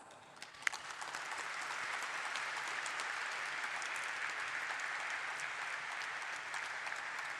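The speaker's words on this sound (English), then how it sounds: "Let's welcome them with a round of applause." A large audience applauds at the Swiggy Limited stock-exchange listing ceremony, with dense, steady clapping sustained throughout after a brief sharper clap near the start.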